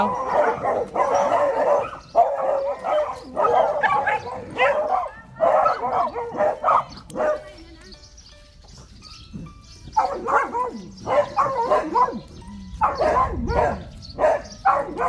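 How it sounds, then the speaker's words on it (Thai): A mother dog and her pup bark in repeated bursts, with a quieter pause in the middle before the barking picks up again, fairly close and loud. "สองแม่ลูกไม่ย่อท้อในการเห่าแต้ม"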